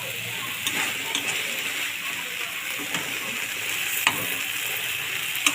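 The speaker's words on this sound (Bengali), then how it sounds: "মানে কড়াইতে লেগে যেতে পারে দেখো আমি কীভাবে নাড়ছি এইভাবে কিন্তু নেড়ে নেড়ে রান্নাটাকে করতে হবে" Bombay duck (loitta) fish curry is stirred in a kadai as a jhuri-style dish, producing a steady wet sizzle with occasional faint spatula scrapes and clicks, close and continuous.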